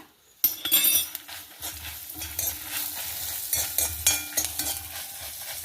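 Mustard seeds, curry leaves and coriander frying in hot oil in a pan, a steady crackling sizzle with scraping stirs and occasional metallic clinks of a spoon against the pan, close up and without talk.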